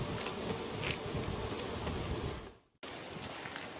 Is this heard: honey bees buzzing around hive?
yes